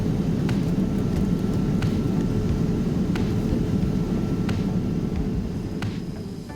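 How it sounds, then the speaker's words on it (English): Steady broadband roar inside the cabin of a Boeing 787 Dreamliner wide-body airliner in flight, constant and loud throughout with a faint easing near the end. "So we flew on board a Boeing 787 Dreamliner. It is a wide-body aircraft"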